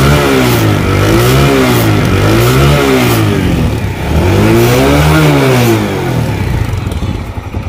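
A TVS Stryker 125cc motorcycle engine revs loudly and close, its pitch climbing and falling in two long throttle sweeps over a steady idle, with no voices.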